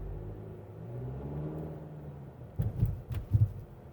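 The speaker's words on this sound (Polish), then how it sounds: "To jest naprawdę niesamowite, jak potwornie głośne jest zawieszenie Volkswagenowskie z tymi amortyzatorami DCC Pro." A 2024 Volkswagen Tiguan 2.0 TDI rolls slowly at about 20 km/h, its suspension with DCC Pro dampers giving low hollow rumbles and a few loud thuds and knocks over the last seconds, with no talking.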